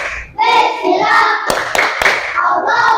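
Children in a classroom chant loudly together and punctuate it with a few sharp unison hand claps in a rhythmic spirit-clap pattern, close and energetic.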